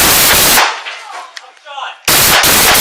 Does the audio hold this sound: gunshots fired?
yes